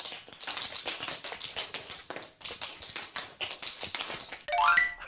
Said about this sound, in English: Tap shoes!